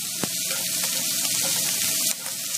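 Shrimp sizzle in a hot pan with a steady, close frying hiss, a couple of brief clicks and a slight dip in intensity near the end.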